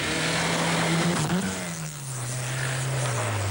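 A Mazda rally car racing on the 1987 Swedish Rally, its engine droning loudly and steadily with a pitch that wavers and slowly falls as it passes, up close.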